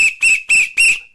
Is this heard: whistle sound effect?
yes